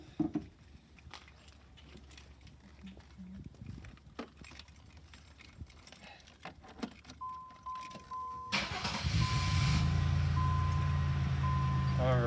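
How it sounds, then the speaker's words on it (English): Clicks and rattling keys, then a car engine cranks and catches after an oil change, settling into a loud, steady idle. "let's go ahead and start this bad boy up"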